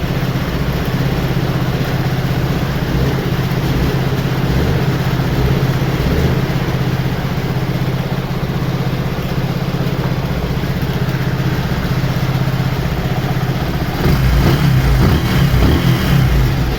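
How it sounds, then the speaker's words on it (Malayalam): A Yamaha FZ V3 fuel-injected motorcycle engine idles close by, a loud, steady, even putter that holds throughout with a slight rise in revs near the end. "വണ്ടി സ്റ്റാർട്ടായി."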